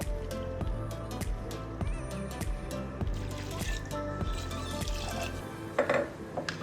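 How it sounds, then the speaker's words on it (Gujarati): Water poured into a pressure cooker over chana dal set for boiling, a soft, close, steady trickle and gurgle with a rhythmic low pulsing beneath, ending in a few brief splashes. "આપણે જેટલી ચણાની દાળ લીધું એનું આપણે ડબલ પાણી રેડવાનું છે અંદર બાફવા માટે મૂકવાની છે"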